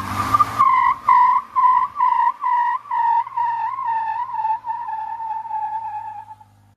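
A truck fitted with an electronic rear locker spins its tires in a burnout, giving a loud, pulsing squeal in rapid rhythmic waves that steadies and then fades out after several seconds.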